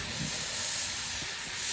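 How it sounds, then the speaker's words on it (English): A pressure canner loaded with jars of green beans vents steam with a loud, steady, broadband hiss that continues unbroken, close up and alone. "this pressure cooker is venting steam, and we're gonna let it do this for 10 minutes"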